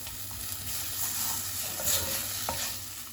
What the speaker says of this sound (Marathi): सो आंब्या सोल घाल मागीर मिक्स कर